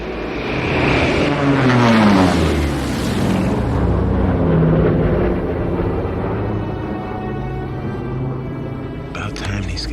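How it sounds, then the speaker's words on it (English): An airplane approaches over an open field with a broad roaring engine drone that swells, its pitch sliding downward as it nears and passes, loud and close, while voices talk faintly underneath. "You hear that? Yeah, I think that's our plane."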